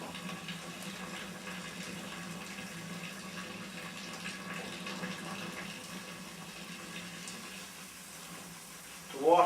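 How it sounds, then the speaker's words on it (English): Water runs steadily from a tap while filling for all-grain lager brewing, a soft continuous trickle and hiss that fades slightly, with a brief louder splash near the end. "The water now is slowing down because the volume of it is getting lower"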